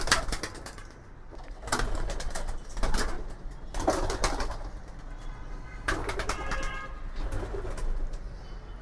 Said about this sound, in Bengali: এখানে সবগুলো কবুতর এখনো বোঝেনি যে বের হতে হবে